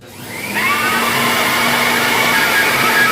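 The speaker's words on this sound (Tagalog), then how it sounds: "yan ang gamit ng gamit ng blower natin" Steady, loud whooshing roar of an air blower during an oil change on a Toyota Innova, rising within the first half second and then holding a continuous high-pitched rush with a faint whine, no talk.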